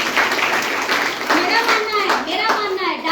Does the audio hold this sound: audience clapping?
yes